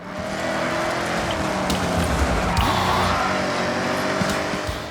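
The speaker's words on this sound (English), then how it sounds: "I want to show you this WRX I made in Forza Horizon 6. You might find this a bit sacrilegious, but it is V8 powered." A V8-powered Subaru WRX in the racing game Forza Horizon 6 gives a steady, throaty engine drone with mechanical rattles and a few sharp clicks, running alone at an even level.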